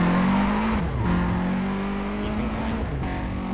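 Car engine in the racing game Need for Speed: World, revving and shifting up and down at low RPM, a loud steady drone with pitch rising and dipping between gear changes, alone without talk.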